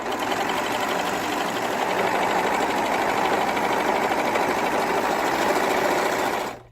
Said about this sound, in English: So as it's sewing, it's got a blade right here that's trimming off the fabric, and it's making this really neat overcasting stitch